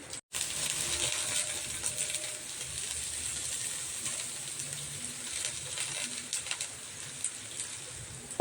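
Shredded cabbage sautés in a hot pan, giving a steady, close, hissing sizzle that carries on without a break and has a few faint crackles and stirring clinks.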